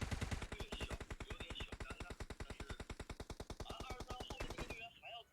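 Sustained automatic gunfire strafing in a video game, a rapid, evenly spaced stream of sharp shots lasting several seconds before cutting off. Commentators talk over the shooting.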